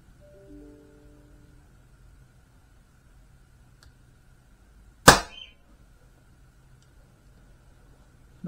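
A Snowpeak PP750 air rifle fires an H&N Barracuda Power pellet, giving one sharp, loud crack with a brief ringing tail in an otherwise quiet setting.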